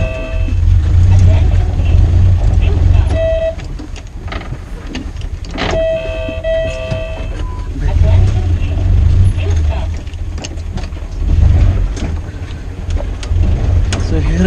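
A 2.1-litre Land Rover, an old-school model, rounds a tight, sharp left-hand hairpin bend, its engine rumbling steadily up close and swelling in waves, with people talking over it.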